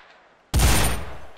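A single gunshot fired in the VR game Gun Club, a sudden sharp loud blast that cuts in after near-silence and then rings out and decays over about a second.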